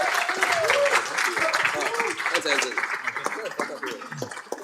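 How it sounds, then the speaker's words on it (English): Audience applause at a summit event, with a dense wash of clapping throughout and a speaking voice heard over it. "So please, a round of applause for the team."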